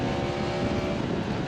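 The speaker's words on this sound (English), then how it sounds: "A really smooth pull from that R1 derived engine." A Yamaha MT-10 SP motorcycle with an R1-derived engine pulls onto a highway, a steady, loud engine drone mixed with rushing wind noise throughout.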